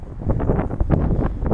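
Gusty wind buffets the microphone on a rainy city street, a steady broadband roar with uneven surges and no clear speech.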